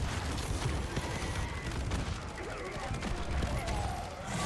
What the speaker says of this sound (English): I'm shooting at his arm.